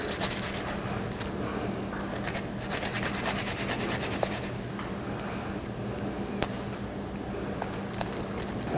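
Garlic cloves rubbed over a grater for meatballs and sauce, a close, dry scraping in quick repeated strokes with small clicks, no voices.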